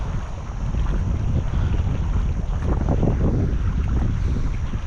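Steady wind buffeting a microphone outdoors on a fishing boat, a continuous loud rumbling roar with no pauses and no voices.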